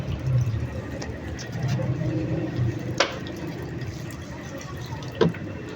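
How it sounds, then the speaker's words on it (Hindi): Water is poured onto potted plants in a room, a soft trickling and splashing up close with a couple of sharp taps, while someone talks over it. "तो मैं डाल रही हूँ पौधे में पानी।"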